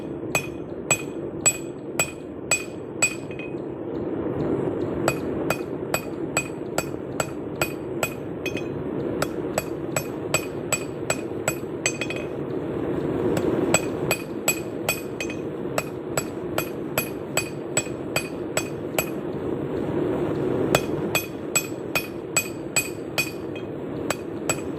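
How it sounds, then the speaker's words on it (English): A blacksmith's hammer strikes hot metal on an anvil while forging a carrying aid, making a long run of bright, ringing blows in quick rhythmic bursts with short pauses, close and loud. "So once again, I'm going to find that notch with my anvil."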